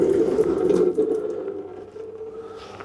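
Fluid trickles steadily into a small drip tray set beneath a Renault Twingo D7F engine during timing-belt work, a close, continuous watery run that gradually weakens over a few seconds.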